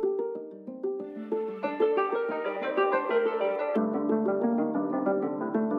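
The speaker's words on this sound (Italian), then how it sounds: "L'harp aggiunge giusto un po' di transiente di sottofondo" Plucked harp notes drift through a dark hip hop beat, layered over sustained low tones and dense midrange harmonics, playing continuously and fairly loud with no voices.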